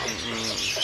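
Caged songbirds, including a black-headed bird, chirp and tweet at a kiosk in a bird market. Several birds call at once in a busy, close tangle of sound, with faint background voices.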